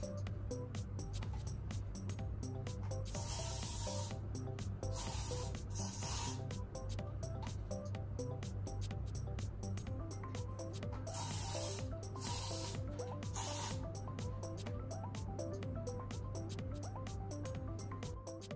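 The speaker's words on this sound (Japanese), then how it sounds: "まず内側にスプレーを当てて、 上から下に表面の部分もつけていきます。" Hair spray misting over freshly curled hair, in long repeated hissing bursts from the inside layers down over the surface, close and steady against a constant low background hum.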